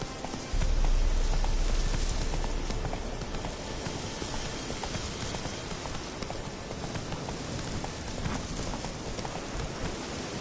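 Roach the horse from The Witcher 3 gallops steadily in a dense, continuous drum of hooves, loud and close, with no voices over it.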